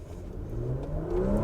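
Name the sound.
2022 Porsche Macan S accelerating in Sport Plus mode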